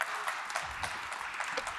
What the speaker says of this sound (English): So please join me in giving a warm round of applause to Miriam Jacks, the founder of Jacks Beauty